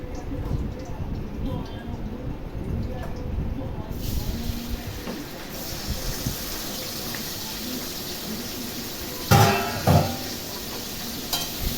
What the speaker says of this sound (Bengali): এবারে ভেন্ডিটা দিয়ে দেবো।